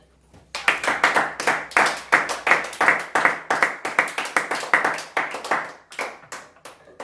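Church worship congregation clapping, a steady run of sharp, fairly close hand claps in a lively rhythm that fades out near the end.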